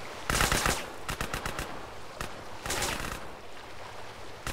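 Gunfire in Grand Theft Auto: San Andreas: a loud sustained burst of automatic fire, then a rapid string of separate shots, a lone crack and a second extended volley, all close and with no talk.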